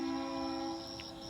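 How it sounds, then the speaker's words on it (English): A train passes with a sustained horn-like tonal drone layered with steady rumble, holding at moderate loudness and easing slightly toward the end, no talk present. "That was a train,"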